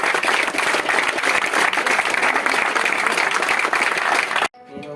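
A large audience gives dense, sustained applause at a youth event, loud and continuous for several seconds before cutting off abruptly.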